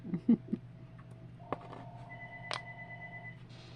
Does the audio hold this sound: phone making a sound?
yes